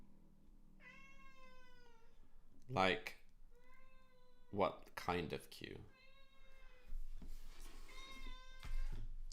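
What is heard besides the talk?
cat meowing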